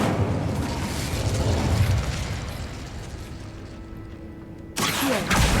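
Incendio fire spell from Hogwarts Legacy, a roaring, whooshing fiery burst that holds steady and then flares up abruptly again near the end, loud and close.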